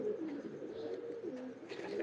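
A fine Teddy-cross pigeon coos in low, continuous throaty rolls, close and fairly soft, with a few faint higher chirps over a steady background and no talk.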